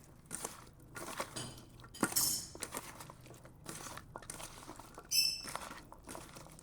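Carrot, tomato and tamarind mash with mustard oil, roasted cumin and coriander being mixed by hand in a bowl. Close, intermittent squelching and rubbing comes with sharp clinks against the bowl.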